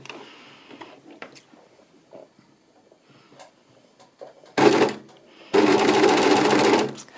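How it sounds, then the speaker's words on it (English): A sewing machine with a trimming knife stitches a jersey knit neckband, cutting off the edge as it sews: two loud bursts of stitching, a short run and then a longer one, after quiet handling noises and soft talk. "we're just going to be trimming that little bit off all the way around as we sew"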